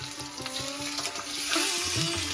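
Onion and green chilli water poured into dhokla batter, a steady watery pour running the full length over a faint background hum.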